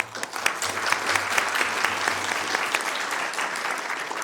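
Audience applause at a city council meeting honoring a staff member, a dense, steady wash of many hands clapping close by, with no voices over it.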